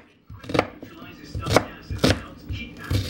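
Knife chopping onions on a board, sharp irregular cuts ringing out close and fairly loud in a quick uneven rhythm, with a few softer knocks between them.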